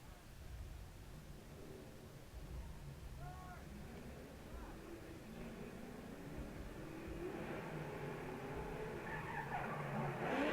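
Nissan S14 drift car on Nitto tires at the 2012 Formula Drift event in the streets of Long Beach, with faint, distant tire squeal and engine noise building toward the end beneath a commentator's talk.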